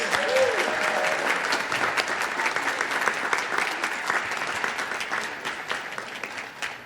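Sustained applause from an audience at a Martin Luther King Jr. Day program, thanking the Martin Luther King Celebration Choir; dense, steady clapping that stays loud throughout and eases slightly toward the end.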